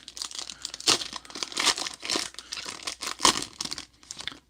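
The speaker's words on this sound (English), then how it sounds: "I missed it as I was ripping the pack" A trading card pack being ripped open, close-up crinkling and tearing of the foil wrapper in quick bursts over a few seconds.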